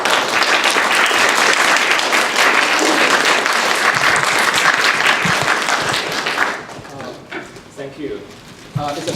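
Loud audience applause fills a lecture hall at a comparative literature luncheon series at Penn State, steady broadband clapping for several seconds that thins out and tapers toward the end.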